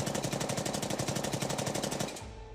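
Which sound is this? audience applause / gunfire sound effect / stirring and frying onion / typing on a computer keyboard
gunfire sound effect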